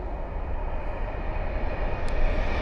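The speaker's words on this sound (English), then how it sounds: "And there's another tilting train coming around." A tilting train passes close by, a steady loud broadband rumble of wheels and rail noise holding throughout with a slight swell toward the end, no voices over it.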